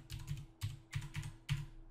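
A password is tapped in on a computer keyboard, four short bursts of clicking keystrokes, close and crisp with brief pauses between them.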